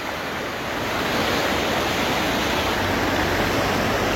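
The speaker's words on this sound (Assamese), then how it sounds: "এনেকুৱা সোঁত গৈছে নহয় পানী" Strong floodwater current rushing across a road, a loud, dense, continuous roar that swells slightly after the first second and holds steady.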